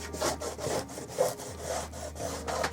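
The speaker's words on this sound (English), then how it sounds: "I'll just use a bit of wood that scrapes the still somewhat wet top layer off" A small block of wood scrapes still-wet paint off the rails of model railway track in a quick, rhythmic series of rasping back-and-forth strokes, close and fairly quiet.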